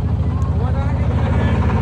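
A motorboat engine drones steadily with a low pulsing rumble throughout on the Gajnar Beel wetland, and voices of a family aboard are faintly mixed in.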